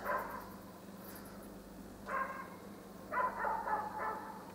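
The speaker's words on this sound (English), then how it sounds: "Listen to that stupid dog. Every dog in the village barks in a whole chain." A dog barks in a village, several bursts of barking at moderate distance, fairly faint over a quiet background, with pauses between the volleys.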